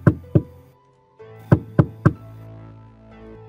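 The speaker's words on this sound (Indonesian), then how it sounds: "mereka pun kemudian mengetuk pintu rumah tersebut" Someone knocks on the door of a house with sharp, hollow raps, two quick knocks, a brief pause, then three more close together, followed by a low lingering tone.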